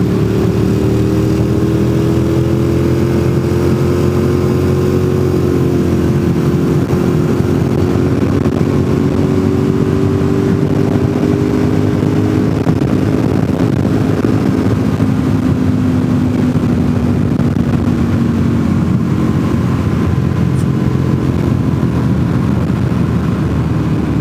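Porsche sports cars run with exhausts wide open on a road west of Franklin, North Carolina, making a continuous loud engine drone whose pitch slowly glides and shifts as they pass.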